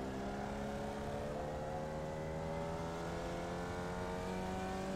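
Steady, droning whine of a single-seater race car engine in a racing video game, held at a constant high rev with slowly rising harmonic tones, loud and continuous with no talk over it.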